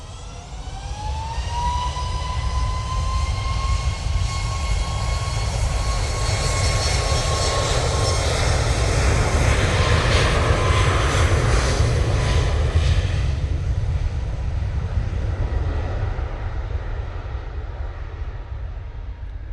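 An easyJet airliner on its takeoff roll at Manchester Airport, jet engines building from a rising whine into a loud, sustained roar that stays strong throughout and begins to ease near the end.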